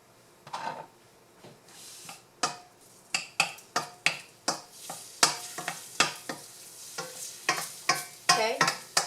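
Garlic goes into light olive oil in a pan, answered by a series of sharp, irregular crackles and pops, some louder than others, over a fairly quiet background with no talking.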